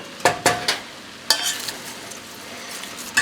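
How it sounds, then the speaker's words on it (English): Chopped medium-small cabbage being stirred into a pot of cabbage soup, with a few sharp scraping, clattering strokes near the start, then a quieter soft rustle and faint sizzle. "I'm going to add the cabbage. I cut up half of a kind of a medium small cabbage. We're going to stir this in."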